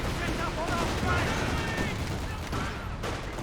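In Company of Heroes 2, an officer's grenade goes off amid a dense battle, with rapid gunfire and blasts crackling continuously and a voice talking over the fighting.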